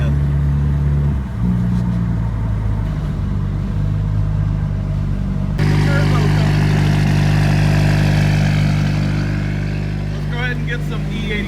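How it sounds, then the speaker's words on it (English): Tuned car driving stoplight to stoplight in city traffic: constant loud low engine drone with harmonic hum, shifting in pitch partway through, heard from inside the cabin with faint background voices. "Just kind of going stoplight to stoplight, get some city driving in."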